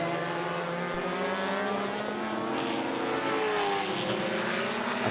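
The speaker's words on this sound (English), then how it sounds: "you can't get a better mix than a quad rotor running around alongside a NASCAR from back in the day" A quad rotor drone and a vintage NASCAR stock car run around the circuit at the Adelaide Motorsport Festival, giving a continuous layered engine drone with a shifting pitch that stays loud throughout without talk.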